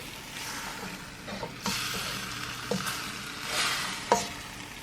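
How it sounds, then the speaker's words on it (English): Soy sauce being stirred into peppered chicken in a hot pan, a close sizzle broken by several sharp utensil scrapes and taps. "we're gonna just stir it in the Kiko Man"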